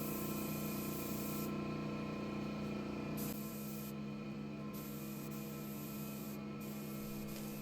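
A spray gun lays down the first coat of paint on a dresser with a steady hiss that drops in level partway through and then carries on more quietly, with no voices.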